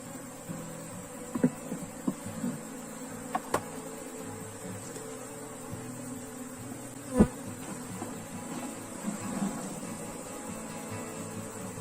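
Africanized honey bees drone around an opened hive during a colony split, a steady close buzzing with a few sharper knocks and clicks from handling the box, and no talk.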